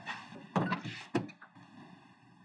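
Door noise from someone arriving, two sharp thuds close together followed by quieter knocks and shuffling, near and fairly soft in an otherwise quiet room.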